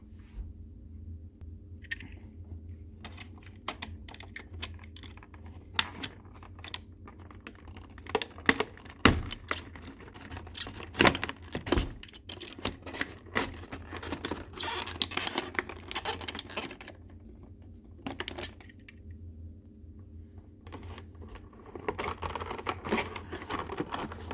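Cardboard and plastic packaging from a Bosch Quigo 3 self-leveling laser box being handled and opened, with close crinkles, rustles, taps and scrapes in irregular bursts and no talking.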